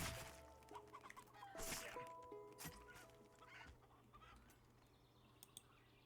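Chickens cluck and squawk in a video game as they are struck, several quick, fairly close bursts with soft thwacks mixed in, fading into quieter scattered clucks, no voices.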